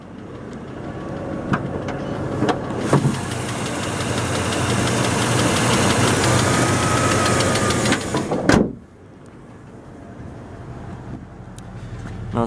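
A 1994 Jeep Wrangler engine idling nearby, a steady low rumble with mechanical ticking, then a sudden clunk as the hood is handled, after which the engine sounds more muffled.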